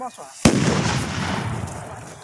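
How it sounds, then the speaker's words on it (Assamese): A single sharp, loud bang from a homemade bamboo firecracker bomb at a night temple festival, followed by a long rumbling, crackling echo that slowly fades. "দেখিছে বোমা ফুটি আছে"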